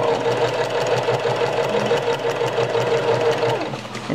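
Sewing machine stitching cased elastic inside a pocket diaper, running steadily up close with a busy rhythmic whir and needle clatter that holds for several seconds, then eases off at the end; a voice speaks briefly.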